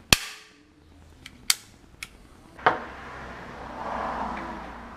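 An Arrow staple gun fires about five sharp, clacking snaps at irregular intervals. Each snap stands alone against quiet, faint background noise, and no one speaks.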